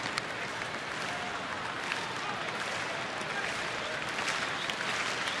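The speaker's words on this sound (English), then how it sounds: "Chicken getting the rhythmic applause going as he strides up and down the Padre dugout." Crowd at a Chicago Cubs at San Diego Padres baseball game in San Diego, September 2011, keeps up steady rhythmic applause and cheering, a dense continuous wash of clapping with faint talk mixed in.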